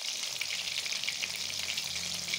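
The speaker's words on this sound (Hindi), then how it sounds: "अब मैं फ़िश को फ्राई करूँगी। जी, अब फ़िश को करूँगी फ्राई।" Marinated fish fries in a pan with a continuous, fairly quiet crackling sizzle, steady and unbroken, with no voices.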